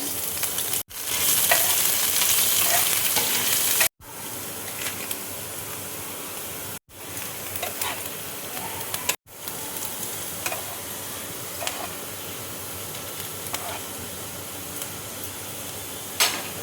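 Steady, loud sizzling of chopped ginger and garlic frying in a hot pan, continuous hiss with brief pauses and occasional stirring clicks, no voices.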